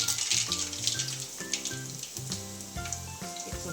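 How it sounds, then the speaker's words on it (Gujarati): Red chillies, bay leaves and curry leaves hit hot oil for a Kathiyawadi tempering, giving a crackling sizzle with spits and pops, set over soft background music. "આપણે આ તેલ આવી ગયું છે, એમાં આપણે આ બધું આ રીતે વઘાર કરવા નાખી દઈએ."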